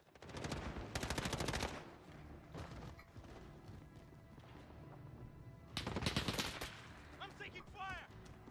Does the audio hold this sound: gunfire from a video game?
yes